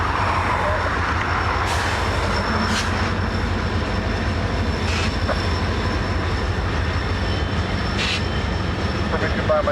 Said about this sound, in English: Trains are constantly arriving and departing from the Conway yard.